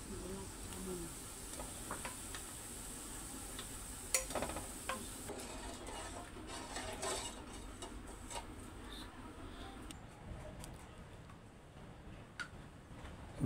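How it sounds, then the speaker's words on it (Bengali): Gulab jamun sweets frying in oil give a steady, fairly soft sizzle through the whole stretch, with occasional small ticks and pops over it and no talking. "এইবার এটাকে তেলে ভেজে একদম লালচে করে নেওয়া হবে"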